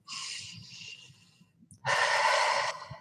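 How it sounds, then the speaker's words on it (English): A slow, audible breath drawn in and let out during a guided tapping relaxation session, close and clear, with one long airy inhale followed after a brief pause by a fuller, louder exhale. "Take a deep breath in"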